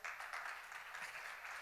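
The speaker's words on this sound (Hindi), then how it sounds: "तालियों में यार बहुत कम आवाज आ रही है" Faint audience applause at a growth summit in India, a thin, distant patter of scattered clapping holding steady for a moment.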